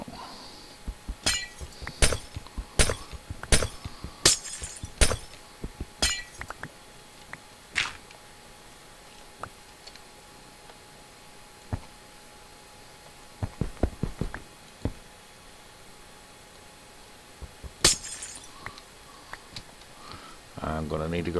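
Glass blocks break in the video game Minecraft as a rapid series of sharp, crisp clinks and shattering clicks, clustered at first and then sporadic, fairly faint over quiet background noise.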